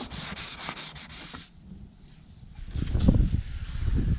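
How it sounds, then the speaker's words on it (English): Rhythmic strokes of 220-grit sandpaper rubbing a school bus hatch surface, a quiet pause, then heavier, louder scratchy sanding resuming close by. "the final sanding is done, and now I will prep for the primer"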